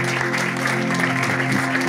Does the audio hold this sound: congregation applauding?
yes